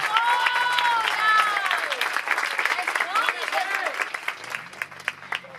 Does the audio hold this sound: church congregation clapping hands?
yes